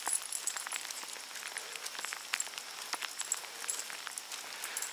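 Rain falls during a walk with dogs, a dense patter of drops striking nearby surfaces with scattered louder splashes and taps, steady and close throughout.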